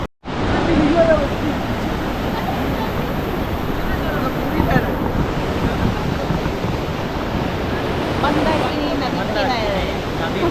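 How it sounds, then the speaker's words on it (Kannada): Loud, constant rushing of the Mandakini River near Kedarnath, a broad roar that fills the whole stretch, with voices partly buried beneath it. "ಈಗ ನಾವು ಮಂದಾಕಿನಿ ನದಿ ಹತ್ರ ಹೋಗ್ತಾ ಇದ್ದೀವಿ"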